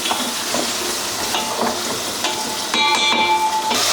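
Frying in a pan over a medium-high flame, a close, steady crackling sizzle with occasional stirring scrapes and brief metallic rings near the end, no speech.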